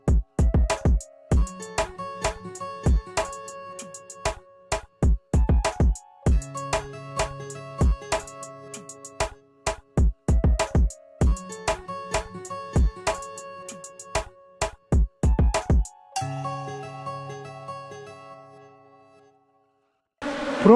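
A strong honeybee swarm buzzes around an open hive while beekeeping, a dense, harmonic drone broken by sharp bursts and shifts in pitch, loud and close throughout before dropping away near the end.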